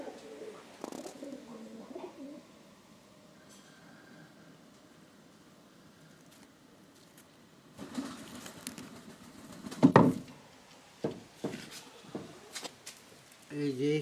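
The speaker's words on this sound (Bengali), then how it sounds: "আরো 3 জোড়া কবুতর ডিম নিয়ে বসেছে।" Pigeons coo from nesting boxes on a farm where pairs sit on eggs, soft low calls coming and going at moderate distance, with occasional patter and clatter and someone talking nearby.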